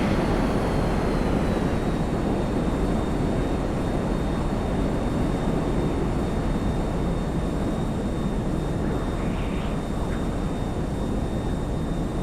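A steady, loud aircraft engine drone from an airplane in GTA Online, holding a constant roar with a faint high whine throughout and no talking.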